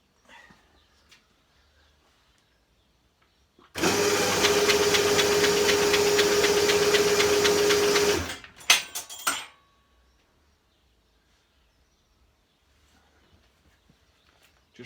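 A BSA A70L Lightning motorcycle, its engine being turned over in third gear after forty years unused, gives one sustained mechanical whirring churn of about four seconds, then a few clunks before quiet.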